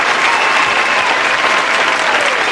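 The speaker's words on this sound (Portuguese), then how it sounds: "salva de palmas aí para todos os que ouviram e acertaram" A studio audience at a Franciscan game show breaks into loud, close, sustained applause, a thick wash of clapping hands that holds steady throughout.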